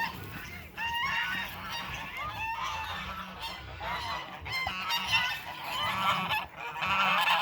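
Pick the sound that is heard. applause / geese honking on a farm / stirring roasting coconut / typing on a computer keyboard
geese honking on a farm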